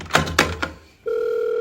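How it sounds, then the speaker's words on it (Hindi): A few dull knocks give way to a steady, continuous electronic telephone tone that starts abruptly and holds at an even level. "जल्दी फोन उठा।"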